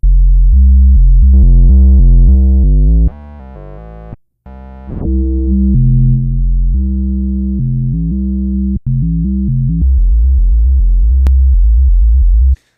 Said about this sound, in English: you can do all that just using like distortion and a sine wave